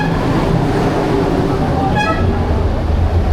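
A brief light rail train horn toots once around the middle, over steady rumbling background noise of a busy station or roadway.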